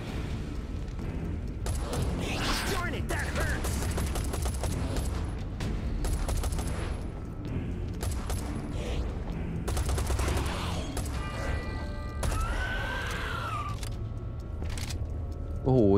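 Rapid gunfire rattles on continuously in the Serious Sam 4 video game as a full magazine is emptied, with loud bursts and metallic clatter dominating for about sixteen seconds and brief game sounds between.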